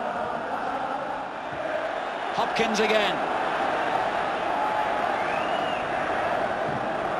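A big football crowd at St Andrews during a classic cup tie, a broad steady roar of thousands that swells briefly and rumbles on beneath close match commentary.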